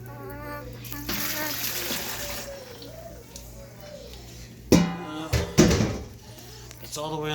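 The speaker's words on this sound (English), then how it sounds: "I'm going to pour a little bit of water in here." Water poured into a turkey brining container at home, a splashing, trickling pour through the early part, then a few sharp knocks and bumps of the container being handled, with voices talking over much of it.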